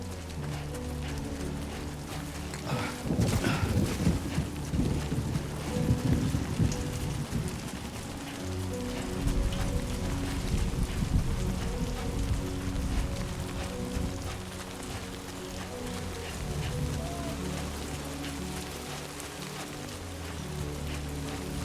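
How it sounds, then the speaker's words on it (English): Rain falls steadily across a rocky mountain ridge in the video game Death Stranding 2, with deep rolling thunder swelling in the middle and easing off again, all without speech. "Great. Rain."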